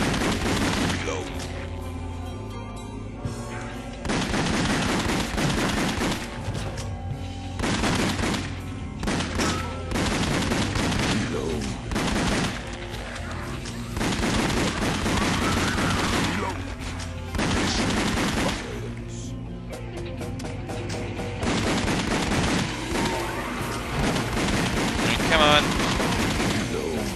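Rapid gunfire from shooting in the video game House of the Dead Overkill, dense repeated bursts and booms filling the whole stretch over a game soundtrack, with a voice talking at times underneath.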